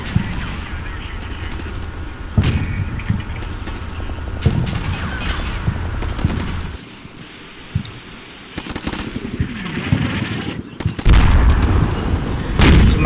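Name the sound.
Strykers firing to suppress trench, Combat Mission: Shock Force video game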